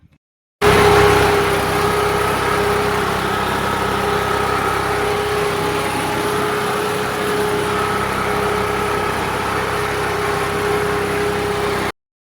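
A tractor engine drones on without a break while tilling a farm field, a loud, even, close hum with a steady tone that never lets up, and no talking.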